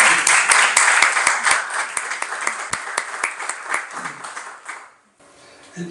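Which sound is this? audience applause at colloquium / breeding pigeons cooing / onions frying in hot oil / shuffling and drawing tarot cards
audience applause at colloquium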